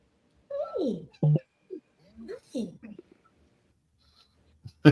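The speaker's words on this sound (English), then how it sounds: "Is your cat talking to you?" A cat meows several times close by in a quiet room, with drawn-out wavering cries and short chirps separated by silence.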